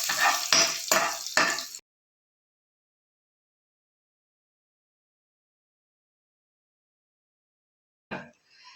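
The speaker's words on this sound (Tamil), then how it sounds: "கருவேப்பிலை பொரியுது பாருங்க, நல்லா பொரியணும்." Curry leaves fry in hot oil in a pan, giving a loud, crackling sizzle with stirring for under two seconds, then long silence and a brief sizzle again at the end.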